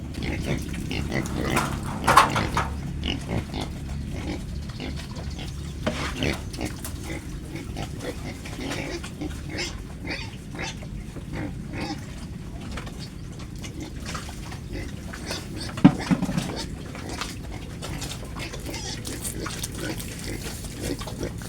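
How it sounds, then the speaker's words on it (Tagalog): Pigs grunting and shuffling as they enter a pen, repeated low grunts and snorts with scattered splashy movement noises, fairly close, with a voice talking now and then. "naghahanap lang ng madadaanan yung ibang mga alaga nating baboy"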